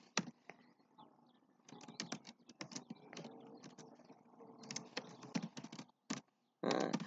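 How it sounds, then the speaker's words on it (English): Rapid keystrokes on a computer keyboard while Python code is entered, coming in dense bursts of clicks with short pauses between them, close and fairly quiet, and no talking. "just typing out everything that he's doing"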